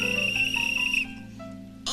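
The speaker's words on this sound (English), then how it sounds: "You blow a whistle" A shrill whistle is blown once in a children's TV scene by a pond. The loud, steady blast lasts about a second and cuts off, leaving soft low tones behind.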